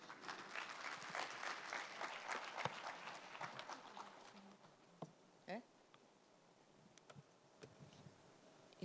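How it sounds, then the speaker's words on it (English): Audience applause welcoming a keynote speaker at the Korea International Water Week 2023 opening ceremony, fairly faint and distant, fading after a few seconds into quiet room noise with a few stray claps. "please welcome her with a big round of applause for her keynote speech"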